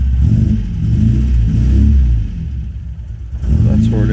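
A 1977 MGB GT rubber-bumper car idles cold with a steady low rumble, deep and close, while someone talks over the engine.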